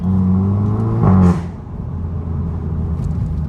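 Cupra 300 DSG with a resonator delete pulls hard, its exhaust droning loud and steady before a sharp lift-off that leaves a rough rumble, recorded close with no talk.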